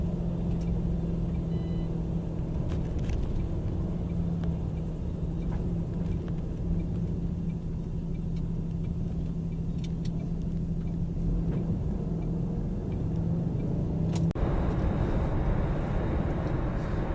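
A car crawls through a traffic jam on a drive across the Pennines, giving a steady interior engine and road rumble that holds constant throughout, with a few faint clicks and a brief shift in tone near the end.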